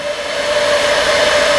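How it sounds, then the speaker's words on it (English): Hair dryer blowing steadily to dry paint on a rusty cap, a loud, close, continuous whir with a constant high whine that holds throughout, no voices. "I am going to take my hair dryer"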